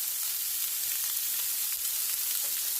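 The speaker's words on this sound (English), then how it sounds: "herb vegetable mix. And saute." Herb vegetable mix sautéing in a hot pan for a Santa Fe brown rice bowl, a constant close crackling sizzle with light stirring, no voices.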